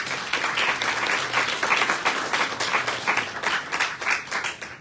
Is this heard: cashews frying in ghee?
no